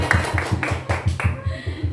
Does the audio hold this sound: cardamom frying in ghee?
no